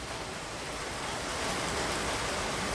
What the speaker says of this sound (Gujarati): વરસાદ ધીમી ધારે ચાલુ થઈ ગયો છે